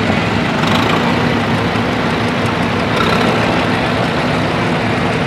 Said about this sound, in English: Mr. Oliver driving an Oliver Super 55, and it's a 214 plow